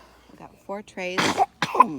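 A sudden sneeze bursts out near the end, sharp and close, right after a person speaks briefly in a quiet indoor room.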